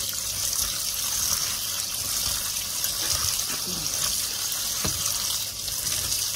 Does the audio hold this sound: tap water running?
yes